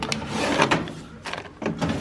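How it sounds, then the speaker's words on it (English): A drawer sliding open and shut during bathroom beauty-product organising, a few quick close scraping and knocking movements over roughly two seconds, with no talking. "I think I'm gonna put this in this drawer."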